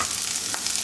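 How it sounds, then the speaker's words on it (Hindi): Thinly sliced onions sautéing in a pan while cooking paneer jalfrezi, a steady close-up sizzle with no one talking. "उसको भी अच्छे से हम सॉटे होने देंगे।"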